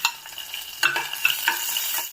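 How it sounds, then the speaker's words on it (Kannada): Cashews and raisins fry in ghee in a pan for poppy seed halwa, a close, bright sizzle with a few stirring scrapes that lasts about two seconds before cutting off. "ಈಗ ಒಂದು ಬಾಣಲೆಯನ್ನು ಇಟ್ಟು ದ್ರಾಕ್ಷಿ ಗೋಡಂಬಿಯನ್ನು ಹುರಿಯೋಣ"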